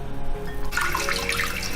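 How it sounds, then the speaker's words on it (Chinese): Blanched pork ribs being rinsed under a running kitchen tap, a steady splashing water stream that starts abruptly partway through and continues loud and close, with no talk. "给它捞出来洗一下"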